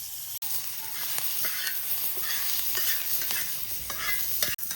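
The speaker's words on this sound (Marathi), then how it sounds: "कांदा भुजून घेतो" Onion frying in a little oil for a Vidarbha-style fish curry, with steady close sizzling and repeated scraping stirs of a spoon against the pan, continuous throughout.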